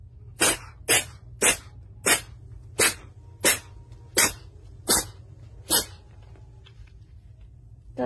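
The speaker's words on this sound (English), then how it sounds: "That was a mighty sneeze." A dog sneezes or snorts in a quick series of about nine sharp, forceful bursts at a steady rhythm, close and fairly loud, over a low background hum, then it goes quiet.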